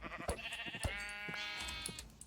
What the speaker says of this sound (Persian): میزنم گوسفندا رو میزنم